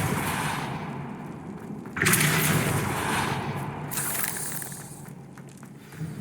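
Fiery Confringo spell blasts in Hogwarts Legacy: a sharp burst near two seconds and another near four, each with a crackling, whooshing tail over a busy game soundscape, no talk.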